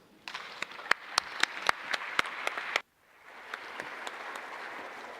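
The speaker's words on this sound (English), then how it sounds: "A big applause once again, ladies and gentlemen." An audience at a cultural heritage conference in Naples, Italy breaks into applause, a dense patter of clapping with a few sharp individual claps standing out, stopping abruptly, then resuming more softly and diffusely.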